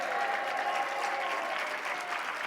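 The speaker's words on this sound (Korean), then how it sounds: "주님께 영광의 박수 올려드리겠습니다" Steady applause from a church congregation, dense and even clapping that holds at a constant level for the whole stretch.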